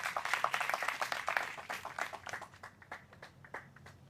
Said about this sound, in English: Let's give Bro Tellis a round of applause.